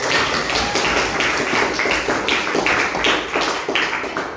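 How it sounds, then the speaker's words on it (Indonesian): Classroom clapping from a group of students, a steady run of overlapping hand claps lasting several seconds, fairly close and loud with no talk over it. "Oke, tepuk tangan untuk kita."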